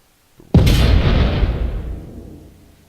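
Warhead detonating against a ship hull in a video game: a single loud, close blast that hits suddenly and rumbles down over about two seconds, with no talk.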